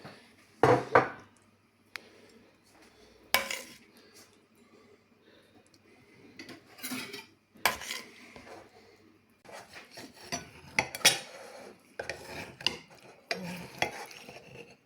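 Knife scraping and cutting across a plate holding berkoukes, a winter dish served with lamb tripe and chicken, in short separate scrapes and clinks with quiet pauses between.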